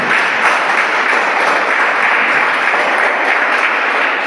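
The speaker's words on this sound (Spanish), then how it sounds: "Dale un aplauso a la palabra del Señor." Dense, sustained applause from a large church congregation, steady and loud throughout with no pauses.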